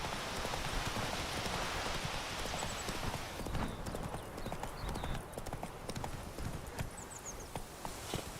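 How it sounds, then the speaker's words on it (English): Steady rain hisses throughout while horse hooves clop rhythmically up close, with faint voices now and then, in the video game The Witcher 3: Wild Hunt. "It's raining and pouring and burning."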